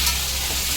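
Potatoes fry with turmeric in hot oil, giving a steady, close, dense sizzle throughout with no voices.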